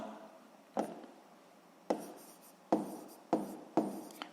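Pen on paper writing down a sixth-grade math solution, five or six soft scratching strokes spaced irregularly, close and quiet, no voices.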